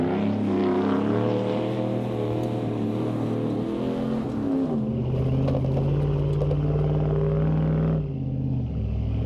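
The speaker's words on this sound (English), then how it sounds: "a little bit of dirt driving" A Dodge Ram 1500 pickup truck fitted with a PowerStop brake upgrade drives on a dirt track, its engine revving and droning loudly up and down, then easing off near the end.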